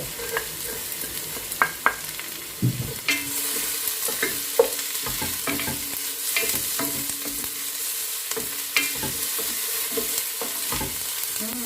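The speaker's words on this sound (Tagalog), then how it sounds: "Pagka-translucent na yung onion, pwede na natin ilagay ang ating garlic." Onion and garlic sizzle gently in a pan for chicken arroz caldo, with intermittent scraping and stirring of a utensil against the pan and soft clinks throughout.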